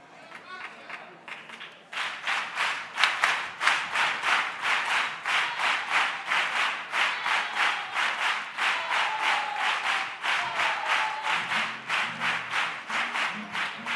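A carnival audience applauds a cuarteto performance at the Córdoba carnival preliminaries, with loud rhythmic clapping in steady unison beats. It starts softer and swells after the opening seconds, then keeps its pace throughout, with some crowd voices mixed in.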